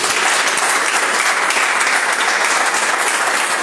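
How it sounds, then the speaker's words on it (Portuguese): A church congregation claps together in praise, a thick, sustained burst of applause at steady loudness from start to finish, with no speech over it. "Quantos podem aplaudir Jesus?"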